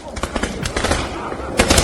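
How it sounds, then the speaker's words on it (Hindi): New Year fireworks exploding in the streets of Amsterdam, with rapid cracking bursts and popping reports crowding one after another, fairly loud amid a noisy crowd with voices in the background. "नीदरलैंड्स में नए साल के मौके पर जबरदस्त आतिशबाजी हुई।"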